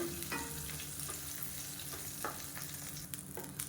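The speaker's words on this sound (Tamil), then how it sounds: "புளி நல்லா வதக்கியாச்சு" Tamarind fries in oil in a pan for chutney, a continuous close sizzle with a few sharper crackles and stirring scrapes, no voices.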